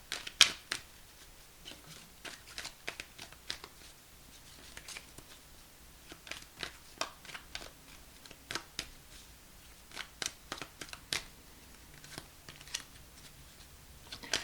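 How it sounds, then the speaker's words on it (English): Tarot cards are shuffled in repeated quick riffles and snaps, sharp crisp bursts spaced irregularly against a quiet background. "Shuffle these for a minute."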